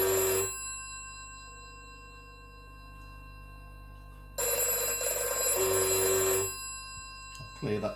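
A telephone extension bell on a GPO Plan 107 extension system rings in two loud bursts with a gap between, a steady electronic trill, and a low hum runs under it.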